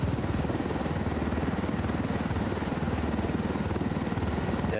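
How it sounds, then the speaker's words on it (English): Helicopter in the video game Ghost Recon Wildlands, a loud, close rotor thump pulsing in a fast, even rhythm over a steady engine drone, with no talking. "this is where you need to land the helicopter at, Sly."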